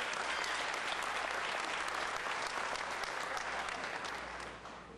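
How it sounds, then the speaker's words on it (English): Sustained applause from the audience at a workplace safety award ceremony, dense and steady clapping that fills the room for several seconds before starting to fade at the end. "Let's give him another round of applause"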